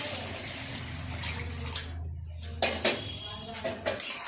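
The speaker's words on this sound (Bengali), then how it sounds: "জল দিয়ে দিলাম।" Water poured into a pan of potatoes being cooked for a fish curry, a steady gush with a clatter of the pan, followed by a few metallic knocks.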